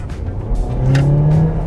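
Renault Samsung SM6 sedan with a 1.8L turbo engine and dual-clutch gearbox accelerating hard, its engine note climbing steadily in pitch and loudness, heard close from inside the car with no talking.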